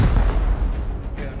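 Gunfire during a squad raid in the survival game Rust, a dense rumbling run of shots and blasts that stays loud and steady from start to finish.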